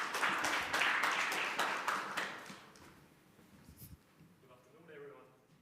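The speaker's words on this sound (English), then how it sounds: "let's give a round of applause for Hammerfly" Applause at a team pitch event for a waste challenge greets team Hammerfly, a short burst of clapping that dies away after about two seconds, followed by quiet room sound and a voice starting to speak.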